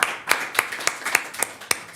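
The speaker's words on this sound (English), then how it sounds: "So I really would like a round of applause for our staff." Meeting attendees at a capital budget session clap for the staff, a steady run of sharp, evenly spaced hand claps from a small group, fairly close and moderately loud, with no talking over them.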